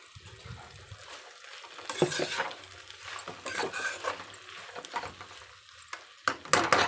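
Okra curry seasoned with chili powder and salt frying in a pan, close sizzling with repeated scraping stirs and utensil knocks against the pan, no talk.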